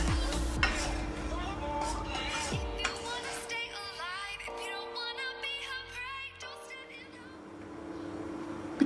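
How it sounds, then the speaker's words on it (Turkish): Whisking cream into San Sebastian cheesecake batter in a bowl, steady scraping and clinking of utensil against the dish with a continuous hum in the background. "Yaptığımız kremayı karışımımıza karıştıracağız."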